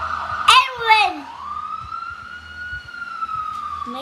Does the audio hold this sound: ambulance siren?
yes